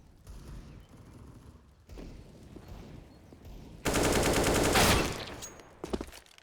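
Gunfire in a competitive Counter-Strike-style shooter match, a rifle spraying through a wall: a loud, dense burst of rapid shots lasting about a second, with quieter game thumps and footsteps before and after.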